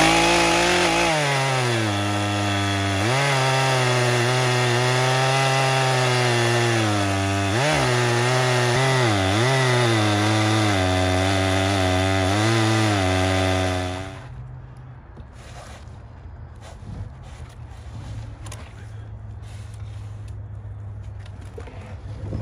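Big-displacement chainsaw with a sharp chain cutting wood, a loud steady high-revving buzz that dips in pitch under load, then drops to a lower idle rumble near the end.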